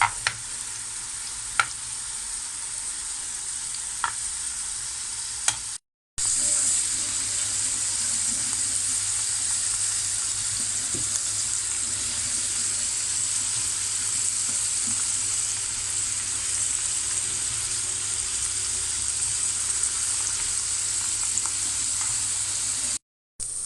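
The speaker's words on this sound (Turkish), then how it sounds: "mantarlarımızı ilave ettik. Kavurmaya bırakacağız." Steady sizzling of mushrooms sautéing in margarine in a pot, a continuous hiss with a brief break early on, close and moderately loud with no talking.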